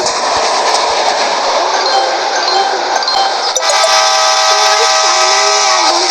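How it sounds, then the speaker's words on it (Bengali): A train in the Indian Theft Auto Simulator video game rumbles loud and steady, then a sustained whistle-like tone joins midway as it slows. "রাস্তার সাথে সাথে ট্রেন যাচ্ছে গাইস"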